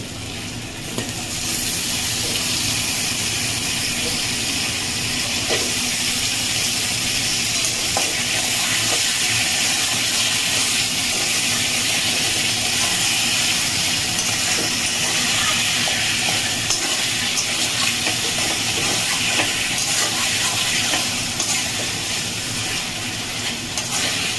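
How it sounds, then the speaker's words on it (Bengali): Boiled taro leaves hit a hot pan of oil, setting off a loud, continuous hissing sizzle that holds steady for the whole stretch, with faint scraping and stirring beneath it and no speech. "এবার আমি সেদ্ধ করে রাখা কচু শাকটা দিয়ে দেব।"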